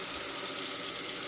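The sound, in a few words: warm water running for mixing carpet shampoo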